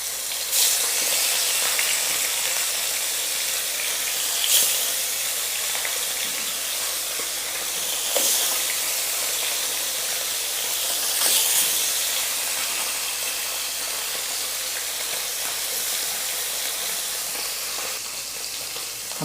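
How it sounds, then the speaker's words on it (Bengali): Koi fish frying in hot oil for a Bengali tel koi curry, with a steady, close, dense sizzle and hiss running throughout and occasional louder crackling bursts. "আমি এখন মাছগুলো একে একে সব ভেজে নিব।"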